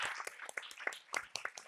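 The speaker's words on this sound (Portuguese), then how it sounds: "Uma salva de palmas para o Bruno." Sparse, faint clapping for a speaker at the close of a talk, a handful of distinct hand claps in loose, irregular rhythm, quiet and somewhat distant.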